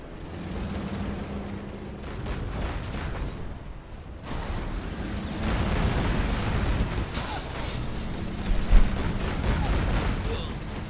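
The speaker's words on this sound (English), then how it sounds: "Nice mine drop. Nice artillery hit." Artillery fire and mine explosions in a tank strategy game on a mountain map rumble in dense overlapping bursts, loud and continuous, with a brief lull midway.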